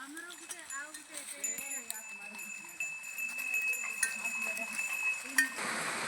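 Goats bleating among other farm animals in a forest in Kandhamal, Odisha, with cowbells clinking and a voice talking over the scene outdoors.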